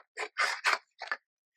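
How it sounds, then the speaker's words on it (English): Scissors trim around folded paper for an envelope journal in a handful of short, crisp snips with brief pauses between them, close and quiet, with no one talking. "I'm gonna take my scissors and I'm gonna trim around it."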